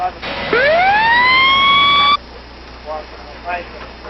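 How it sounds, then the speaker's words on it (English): A police cruiser siren rises sharply from low to a sustained high wail, then cuts off abruptly, leaving faint background noise and distant voices. "Police ordered the cruisers in the area to turn off their sirens, then turn them on one by one."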